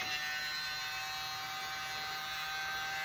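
A small electric blower whines steadily and loudly, pushing epoxy across a galaxy-style picnic table top, an unbroken motor drone with no talk.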